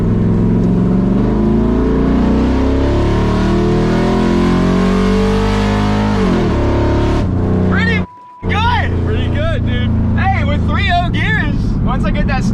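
The Real Teal, a cheap project car fitted with a 5.0 engine, launches in a drag race, its engine revving loudly and climbing through gears with a brief cut before the howl resumes, close and dominant throughout.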